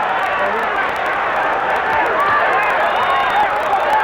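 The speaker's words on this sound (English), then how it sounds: "Going to hear the crowd react quite a lot" Boxing crowd reacting during the Hagler vs Duran fight, a loud continuous roar and babble from a large arena audience, swelling slightly, with the noise filling the whole stretch.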